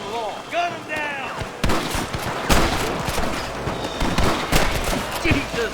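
Gunfire rings out in Red Dead Redemption on Xbox One, a dense volley of sharp overlapping shots mixed with horse hooves and shouting voices during a shootout with rustlers.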